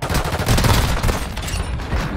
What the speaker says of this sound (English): people shooting at me